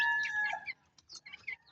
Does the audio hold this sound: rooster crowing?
yes